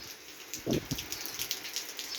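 Light drizzle falls in Dhaka, a faint, soft patter of scattered drops over a quiet hiss, brief and distant.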